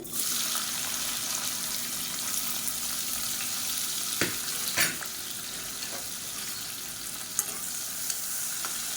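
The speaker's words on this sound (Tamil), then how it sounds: "சீரகம் பொரியவும் மீடியம் சைஸாக ஒரு வெங்காயம் சேர்த்துக்கலாம், 1 கைப்பிடி அளவுக்கு" Cumin seeds and a medium onion frying in hot oil in a home kitchen, a steady soft sizzle throughout with a few light clinks and stirring scrapes, close and fairly quiet.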